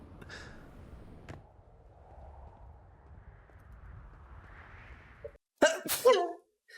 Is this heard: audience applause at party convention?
no